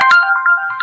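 A short Instacart app notification chime from a phone, a bright melodic tone lasting under a second, loud and close, with no talking over it.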